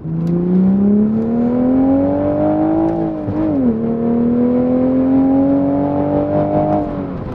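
Stock manual Toyota Supra engine pulling hard under acceleration, pitch climbing steadily, dipping briefly at a gear change, then rising again, loud and close with no talk.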